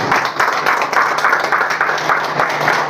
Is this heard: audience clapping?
yes